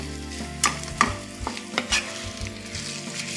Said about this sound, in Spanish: ya la voy a freír aquí con la cebolla